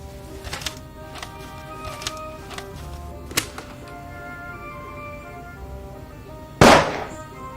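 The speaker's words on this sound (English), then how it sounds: "A shot is audible on the tape, and the reel comes from the Baroness's cabin." A single sharp gunshot crack from a recording played back on a tape reel in the mystery game The Raven, sounding loud and sudden near the end after quieter faint clicks and hum.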